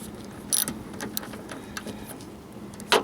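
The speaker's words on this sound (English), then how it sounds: "so all I have to do is just tighten this down with my socket here." A socket wrench tightening the air filter housing on a 2014-2018 GMC Sierra with a 4.3L V6, giving short bursts of quick ratcheting clicks, close and fairly faint, with a sharper clack at the start and end.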